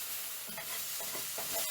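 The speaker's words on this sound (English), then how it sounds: "A quick stir." Vegetable gumbo with Creole spice mix is stirred in a pan, with a steady background sizzle of frying and a few soft scraping strokes of the spoon.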